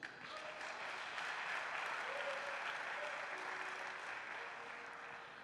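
Sustained applause and cheering from a church congregation acclaiming Jesus during a French-language worship service, a dense wash of many hands clapping for several seconds before tapering off slightly.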